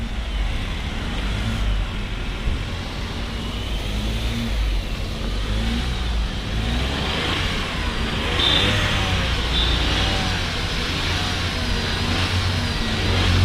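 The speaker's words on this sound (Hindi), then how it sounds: "तो हमने सोचा चलो गाड़ी में बैठते हैं थोड़ी देर, और गर्मी भी लग रही थी, तो हमने सोचा ब्लोअर भी ऑन कर देते हैं।" A car's blower fan runs inside the parked vehicle on a hot day, giving a loud, steady whooshing rush over a low engine hum that continues unbroken throughout, with no talking.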